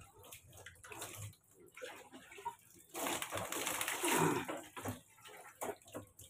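Water is poured to rinse off a child during a bath, sloshing and splashing in bursts, loudest in the middle stretch, with faint voices and movement around it.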